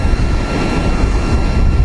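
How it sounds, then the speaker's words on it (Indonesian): A deep, throaty aftermarket exhaust rumble from a Yamaha R15 motorcycle drones steadily at close range, loud and bass-heavy without pause. "Jadi knalpot ini mungkin bisa lebih bertenaga ketimbang yang lainnya dan lebih ngebas."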